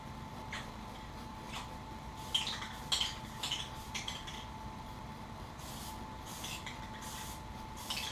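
Light bursts of spray can primer dusting a thin coat, several short hissing puffs repeated at an irregular rhythm over a steady low background hum.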